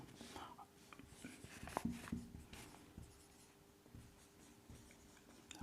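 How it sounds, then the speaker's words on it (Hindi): A question is written on a board in a classroom: soft, scratchy strokes come in short bursts, with quiet talk faintly in the background. "इस क्वेश्चन को मैं लिख दे रहा हूँ यहाँ"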